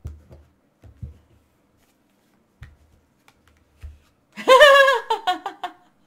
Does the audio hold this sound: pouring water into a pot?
no